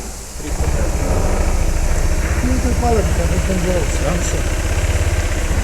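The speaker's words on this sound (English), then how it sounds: "We've started the bike. We leave it run for a bit. The engine sounds very nice" A 2024 Honda SH150i scooter idles steadily nearby after starting, an even low putter with a voice talking over it.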